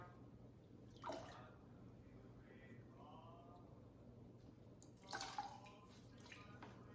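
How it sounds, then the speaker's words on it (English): Water drips steadily in a home kitchen, two faint, separate drops landing about four seconds apart over a quiet, low background hum. "Because it is just steadily dripping"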